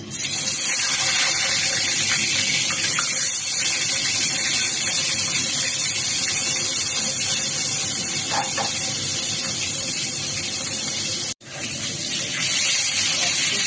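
Fish frying in hot oil in a kadai, a steady broadband sizzle that runs continuously at close range, with one brief dropout near the end.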